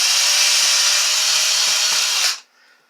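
A power drill bores a starter hole while making a DIY tripod phone holder, a loud steady whine lasting over two seconds with a few faint low knocks, then cutting off abruptly into quiet.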